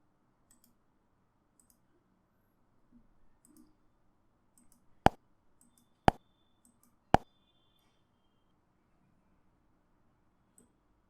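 Three sharp, isolated computer mouse clicks about one second apart in a quiet room, near and crisp, with faint tiny ticks around them and no speech.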